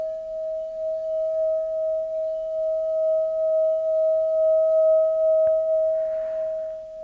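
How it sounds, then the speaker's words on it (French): A Tibetan singing bowl rings with a single sustained metallic hum, steady and pure, slowly pulsing in volume, with a faint brush of noise near the end. "je voulais vous montrer ce magnifique bol tibétain"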